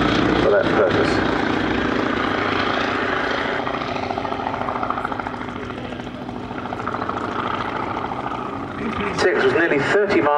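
Boeing P-26A Peashooter, a 1930s monoplane fighter with a cowled radial engine, droning steadily and loudly overhead at an air show at Duxford, with a voice talking over the continuous engine sound.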